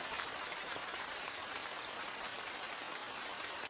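Rain falls steadily on a coffee plantation, an even, dense hiss of drops that stays constant and fairly soft throughout before cutting off abruptly at the end.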